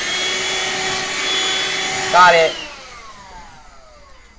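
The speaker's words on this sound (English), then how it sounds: "Here, I'll vacuum it off you." Household vacuum cleaner running close with a steady whining roar that rises briefly in pitch, then cuts off and spins down into fading silence, with a short spoken remark over it.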